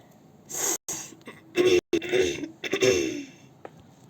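Several harsh, breathy coughing bursts in quick succession, close and loud, separated by short silences.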